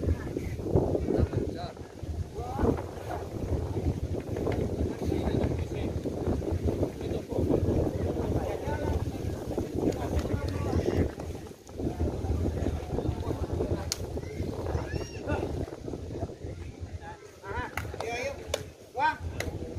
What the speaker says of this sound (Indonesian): Kuat tampaknya angin memberi pengaruh terhadap bola.